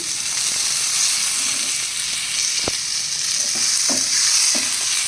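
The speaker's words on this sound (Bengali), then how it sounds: "এইবার নাড়াচাড়া করে" Kundri (ivy gourd) bharta, boiled and drained, stirred while frying in a pan: a steady broadband sizzle runs throughout, with a few short scraping strokes near the end.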